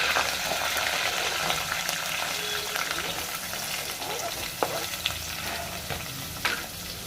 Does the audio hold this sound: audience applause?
no